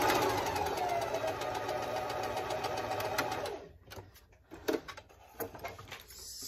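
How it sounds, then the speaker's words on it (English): A sewing machine stitches a French seam 1/8 inch from the fabric edge, a loud continuous whirring drone for about three seconds before stopping, followed by a few soft clicks and handling noises. "we're going to stitch 1/8 of an inch in from this edge"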